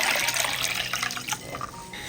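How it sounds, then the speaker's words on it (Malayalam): Plain water pours into an iron kadai in a short, splashy gush that fades and thins out over about two seconds. "ആദ്യം നമ്മൾ വെള്ളമാണ് ഒഴിച്ചു കൊടുക്കുന്നത്. പച്ച വെള്ളമാണ്."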